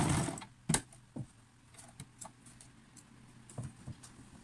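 A sewing machine running a zigzag stitch along bias binding at the neckline and armhole of a sleeveless top gives short, faint mechanical bursts and clicks separated by pauses.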